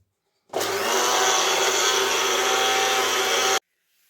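Mixer grinder finely grinding a green masala paste with a little water, a single loud, steady motor whir lasting about three seconds before cutting off.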